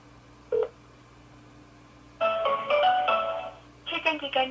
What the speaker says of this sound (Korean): 114 전화 걸어볼게요.